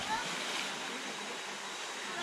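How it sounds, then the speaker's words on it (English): A waterfall at a popular swimming spot roars as a steady, full broadband rush of falling water, close and constant throughout with no break. "So here we are back at the waterfall"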